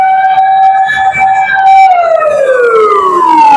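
A loud, close fire truck siren wails as the engine arrives at a fire at a vacant establishment in Canlalay, Laguna, its tone holding steady and then sliding downward.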